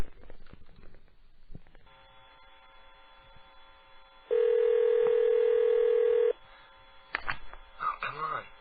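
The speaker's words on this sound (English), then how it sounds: "I'm going to click over and dial" Telephone line tones on a radio show call: a steady dial tone sounds for about two seconds, followed by short bursts of dialing tones, heard over a faint background.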